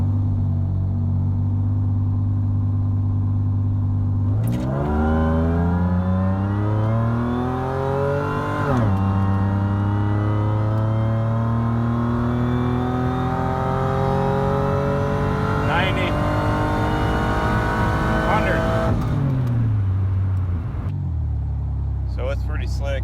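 A supercharged 3800 Pontiac Fiero accelerates hard uphill, its engine revving loudly and close, climbing in pitch through successive gears with abrupt drops at each shift.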